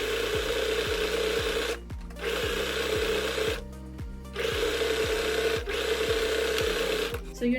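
A sewing machine stitches the underarm seam of a puff-sleeve dress, right sides together, in three loud sustained bursts with brief pauses between them.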